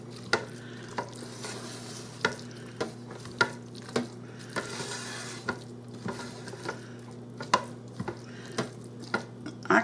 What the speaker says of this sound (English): let me put that down and give it a stir